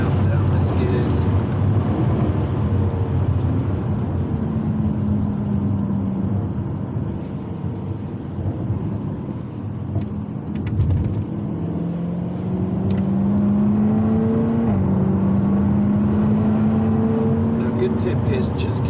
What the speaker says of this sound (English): So on the brakes now, down those gears.